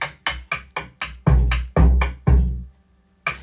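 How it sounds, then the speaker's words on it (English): A covered timpani sample from Logic Pro loops plays as a close, dry run of repeated muffled drum hits, about a dozen strokes, a few heavier booming ones in the middle, then a pause and one last hit, with no voices. "It is a covered timpani. It sounds like this."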